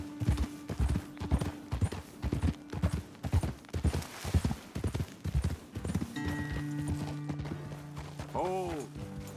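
Steady clip-clopping hooves from horses walking in the video game Red Dead Redemption 2, with a voice talking over them and a brief whinny near the end.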